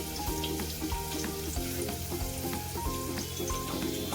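Hot oil sizzles steadily as mustard seeds pop and crackle in quick, irregular bursts, close and clear with no talking.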